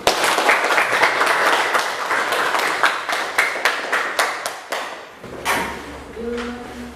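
A classroom of students gives a round of applause: many hands clap in a dense, steady burst for about five seconds, thinning out and fading as the room settles into quieter background noise.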